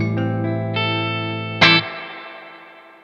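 A hollow-body electric guitar with P90 pickups rings out through a Fender Deluxe Reverb amp using its built-in reverb: sustained chords, a fresh strum near the end, then a long reverberant decay, with no talking.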